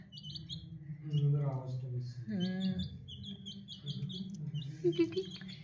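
Baby chicks give repeated high, thin peeps in short bursts at close range, while a person talks over them.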